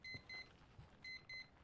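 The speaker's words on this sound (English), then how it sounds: "That was the alarm." Alarm beeping in short pairs of high, pure electronic tones, two beeps, a pause, then two more, faint against quiet background noise.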